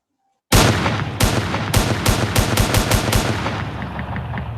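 Video-game gunfire erupts after a moment of silence: about eight loud, sharp shots spaced unevenly over four seconds, each with a booming tail, the final ones trailing into a fading ring with faint clicks.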